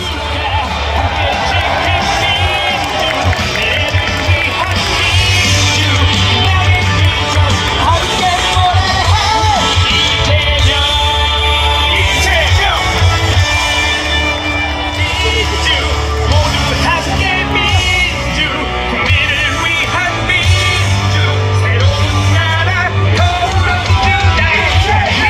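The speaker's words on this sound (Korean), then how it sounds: "여러분 아직 우리의 함성이 부족한 것 같습니다" A large outdoor political rally crowd in Yeouido at a candidate's final speech, a sustained mass of shouting and cheering voices with amplified talk over it, loud and continuous throughout.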